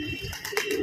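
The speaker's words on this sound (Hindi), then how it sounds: "देखिए सामने कबूतर उड़ रहा है" A pigeon coos in a short, soft burst of low throaty calls in the evening open air, heard alone at moderate distance.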